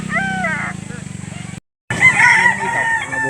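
A rooster crows loudly and close at a poultry auction market in Lipa, with clucking fowl around it and people talking over the birds before and after a short gap.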